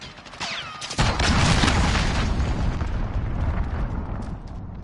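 A cruise missile explosion in Call of Duty: Modern Warfare, one loud, deep boom followed by a long rumbling roar that slowly fades, with some faint higher sounds just before it.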